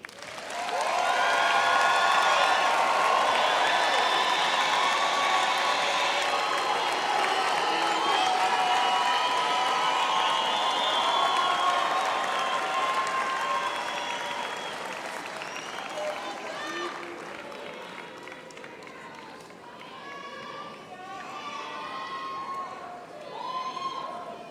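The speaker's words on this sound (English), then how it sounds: "let us give them a round of applause." A graduation ceremony audience gives the graduates a long round of applause, loud and sustained at first. It then thins and fades while music or voices rise underneath.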